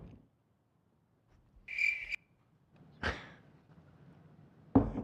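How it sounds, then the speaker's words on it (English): A few isolated high chirps of a cricket, spaced apart and faint against an otherwise quiet room. "There's crickets in here."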